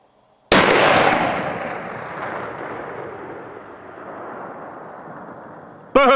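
A .338 Edge+P rifle fires a single long-range shot: one sharp, very loud blast with a long rumbling echo rolling away for several seconds, then a brief click at the end.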